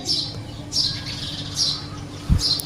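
Several bursts of high, harsh house sparrow chirps repeat every second or so against a quiet background, with one low thump near the end.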